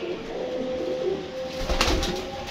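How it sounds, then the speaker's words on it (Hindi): Pigeons coo softly nearby amid a busy background hum, with a rustle or flutter of movement partway through. "ये कबूतर देखें दोस्तों"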